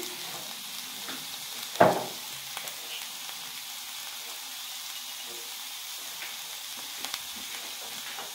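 Minced meat and potatoes seasoned with salt, pepper and cumin are stirred in a hot pan, giving a steady low sizzle with one sharp scrape of the spoon early on and faint clicks later.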